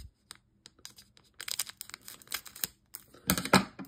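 Scissors snip open the foil wrapper of a trading card pack up close, a quiet run of short crinkly cuts that grows busier and louder toward the end, with no speech.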